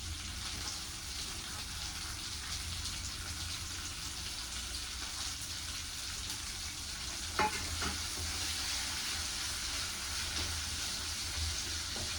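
Chopped onions fry in oil in a pan, giving a steady, even sizzle that runs throughout, with one brief scrape of stirring partway through.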